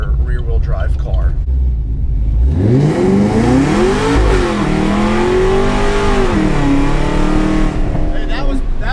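A 2013 Camaro ZL1, a 700-horsepower rear-wheel-drive car, launches hard from rest and its engine climbs loudly through the revs, with a brief shift dip before it pulls again. It starts from an idle rumble, and voices are faintly audible around it.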